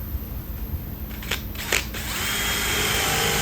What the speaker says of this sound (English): This is a 2-inch Forstner drill bit.